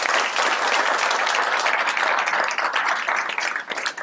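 Audience at an economic development press conference in Little Rock gives a big round of applause, continuous crowd clapping that stays full before tapering slightly at the close.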